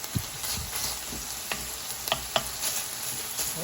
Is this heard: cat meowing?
no